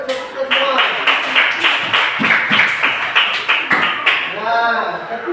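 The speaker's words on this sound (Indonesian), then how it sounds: "Oke, tepuk tangan semua" A primary school class claps together in a steady, rhythmic pattern of loud, sharp bursts for several seconds, with a voice rising briefly near the end.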